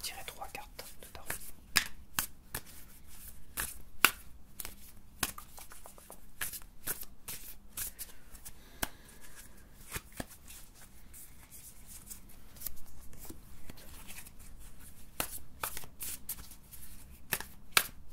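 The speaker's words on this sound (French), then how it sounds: "Je vais tirer 3 cartes de tarot." Tarot cards are shuffled close up in a quiet ASMR setting, a continuous soft riffling with rapid sharp card snaps throughout, and faint whispering runs underneath.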